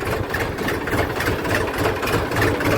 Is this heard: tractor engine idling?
yes